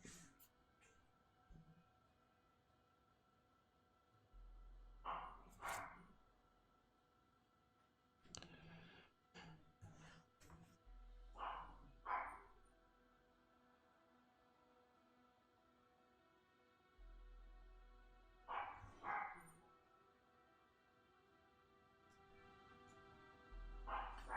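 A dog barks faintly in the background at feeding time, in several short clusters of barks and yips spread through a quiet indoor room.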